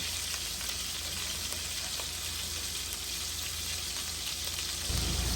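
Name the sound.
pot roast meat searing in olive oil in a pan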